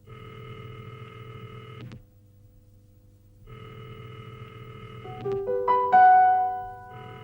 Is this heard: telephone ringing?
yes